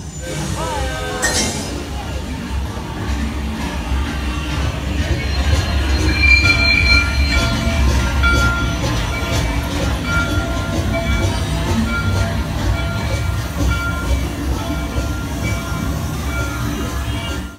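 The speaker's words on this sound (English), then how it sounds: "here comes our train now" Ride train of Mickey and Minnie's Runaway Railway at Hollywood Studios arriving, a steady loud rumble of rail cars with wheel squeal and clinks, crowd noise underneath throughout.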